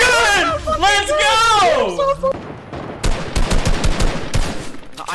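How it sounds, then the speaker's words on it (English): Heavy sniper rifles going off repeatedly in the video game Fortnite, a rapid scattered burst of sharp cracks after a stretch of excited talk, with voices still mixed in. "I just heard 10 heavy snipers go off"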